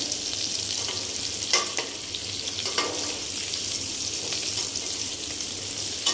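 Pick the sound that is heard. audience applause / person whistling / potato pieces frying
potato pieces frying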